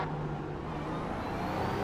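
A race car in the iRacing sim, running an IMSA iRacing Series race, drones with a steady engine roar that builds slightly toward the end, with no one talking over it.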